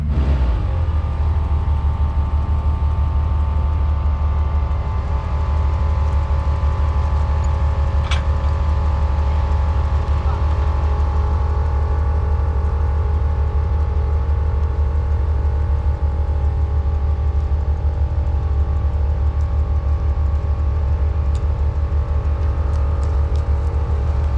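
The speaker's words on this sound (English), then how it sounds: "We drive 20 feet, we go over some big rocks, we drive another 20 feet and go over some rocks." An off-road vehicle crawls a rocky trail at Strawberry Pass near Kirkwood in the Sierra Mountains, its engine rumbling low and steady throughout, with a sharp clunk or bump about a third of the way in.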